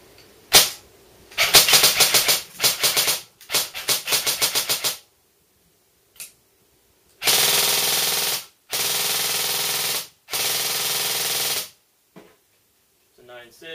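An airsoft RPK on a 9.6-volt battery cycles in loud, close bursts of rapid mechanical rattling, several strings of shots separated by silences.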